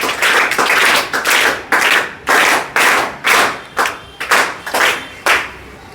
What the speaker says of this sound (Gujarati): એક સાથે તાળીઓથી આજના કાર્યક્રમને આપણે અભિવાદિત કરશું.